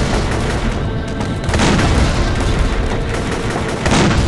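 Dense, continuous gunfire and booming blasts from a Warfare real-time strategy battle, with loud overlapping shots and heavy impacts filling the whole stretch without any spoken voice.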